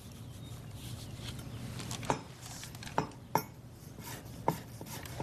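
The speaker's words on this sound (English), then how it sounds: "Actually, this is chopping, but we're using a chop to create a mince." Several sharp knife strikes on a cutting board, chopping food into a mince, spaced irregularly over a low background hum, close and fairly quiet.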